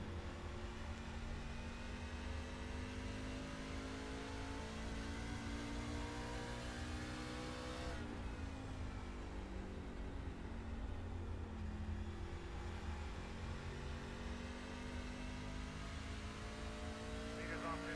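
A race car engine in the iRacing video game at Richmond drones steadily from the in-car view, holding a constant high-revving whine with a brief drop in pitch partway through as gears shift, loud throughout.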